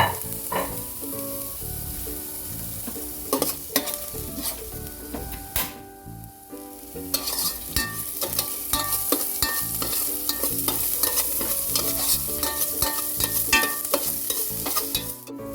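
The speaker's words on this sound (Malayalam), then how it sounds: "ചെറിയ ഉള്ളി പച്ചമുളക് വെളുത്തുള്ളി ഇത്രയും ഇട്ട് കൊടുത്തൊന്ന് വഴറ്റിയെടുക്കാം" Shallots, green chili and garlic sizzle steadily in a hot pan, with frequent scraping and knocking of a spatula as they are stirred and sautéed, close and fairly loud, with no talking.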